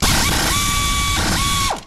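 A ratchet socket wrench clicks loudly and close up in two quick bursts as an extension is worked off a socket on a 1994 Club Car DS gas golf cart.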